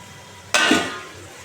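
Fried fish set into a pan of spiced oil, a single sudden hissing sizzle with a soft clink that fades over about a second, close and alone.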